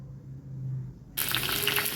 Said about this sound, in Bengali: যে তেলটা গরম হয়ে গেছে, এবার আমি তেলটাতে জবা ফুল আর কারি পাতাটা দিয়ে দেবো